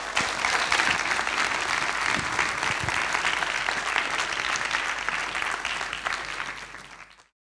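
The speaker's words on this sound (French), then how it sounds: "on va pouvoir applaudir une nouvelle fois les réalisateurs pour leur film" A live audience at a science short-film screening evening applauds the filmmakers: a full, even wash of clapping that holds steady for about seven seconds, then cuts off abruptly into silence.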